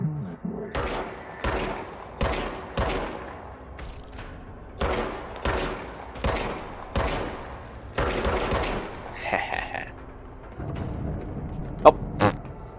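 Gunshots in the video game Control, a steady series of single sharp shots spaced about half a second to a second apart, fairly quiet, with a few other game sounds near the end.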